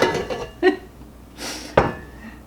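A spatula scrapes down a mixing bowl of Christmas kitchen sink cookie dough, giving a few brief close knocks and scrapes against the bowl, one sharper clack near the end.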